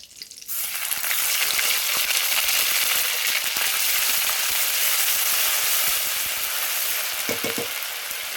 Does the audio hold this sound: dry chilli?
yes